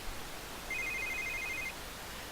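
A phone rings in The Sims video game, a single steady electronic trill lasting about a second over a quiet background hiss.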